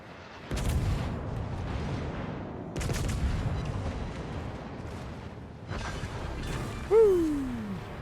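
Warship guns firing in World of Warships. Three heavy booming salvos come at spaced intervals, each followed by a rumbling decay, and a falling mechanical whine sounds near the end. No talking.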